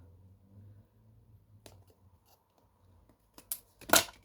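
Scissors cutting through card during papercraft, a few sparse snips and rustles, then two sharp crisp cuts near the end, close and alone.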